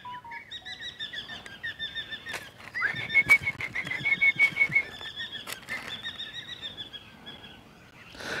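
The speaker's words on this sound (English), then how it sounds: "Hear all the birds starting to make noise?" Birds calling at an Australian wildlife park, a series of bright, repeated chirps and whistled calls over several seconds, moderately close, with a horse-like whinnying cry mixed in and no talking.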